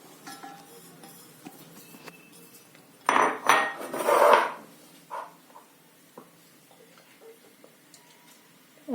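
Sago being tipped into a bowl with crushed peanuts, chilli and cumin, then mixed, heard as a quiet cluster of scraping clinks from a spoon against the bowl, with a few softer taps afterward.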